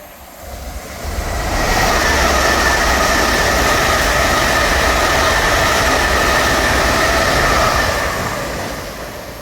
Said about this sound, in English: Passing through now is an LNER service from Aberdeen to London King's Cross.